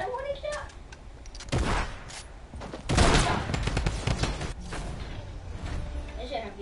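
Warning gunshots in a video game: a few sharp bursts of gunfire standing out among mechanical clicks and clatter, with chatter from players alongside.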